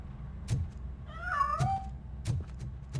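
A cat gives a single drawn-out meow in the RoboCop: Rogue City video game in an old factory, mid-level and clear, among soft, regularly spaced thumps like footsteps.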